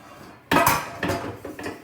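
Cast iron pans knock and clink together as they are handled, three sharp metallic strikes in under two seconds, close and fairly loud, each with a short ringing tail.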